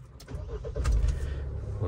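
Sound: Mahindra Thar engine starting

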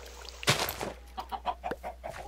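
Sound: chickens clucking in Minecraft video game

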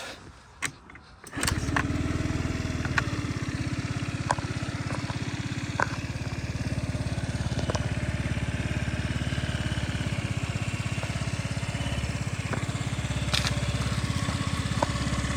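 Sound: scooter engine idling

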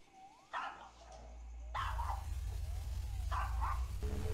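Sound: dog barking

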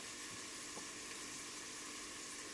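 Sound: sautéing onions and meat in a pan until fragrant

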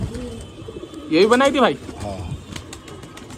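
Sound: Pakistani black Katle pigeons cooing

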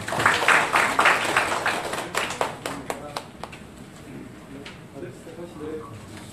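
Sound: teachers applauding to welcome a speaker

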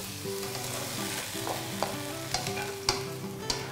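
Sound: stir-frying carbonara sauce with wine reducing in the pan

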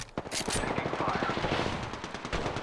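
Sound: gunfire in the video game Apex Legends

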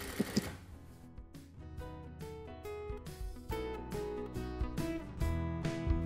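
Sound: sewing machine stitching twill tape onto polo shirt collar

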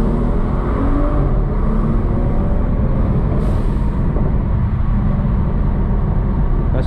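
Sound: BMW 640i Gran Coupe tuned engine downshifting

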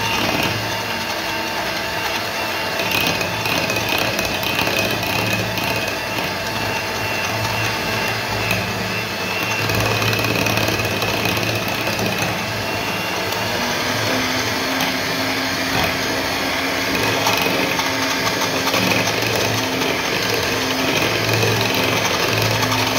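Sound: electric beater mixing eggless banana cupcake batter

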